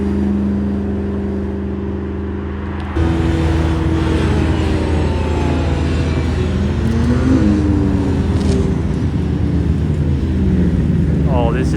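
A white McLaren P1 drives past at a Monterey Car Week gathering. A loud, steady engine roar builds after a quieter opening and holds strongly, with rising tones near the end.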